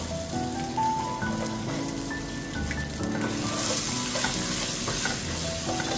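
Grated coconut hits hot coconut oil in a pan already holding mustard seeds, cumin and fennel, setting off a loud frying sizzle with scattered crackles and pops while it is stirred, close by and with no voices.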